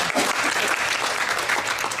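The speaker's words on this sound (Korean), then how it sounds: "현미숙 대표를 박수로 환영해 주시기 바랍니다." An audience at a 2014 Birkman Korea conference applauds steadily as a speaker, Hyun Mi-sook, is welcomed to the stage, with dense continuous clapping filling the room at an even level.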